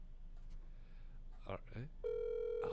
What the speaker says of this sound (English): He's letting it ring.